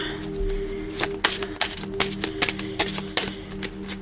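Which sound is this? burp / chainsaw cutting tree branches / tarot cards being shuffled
tarot cards being shuffled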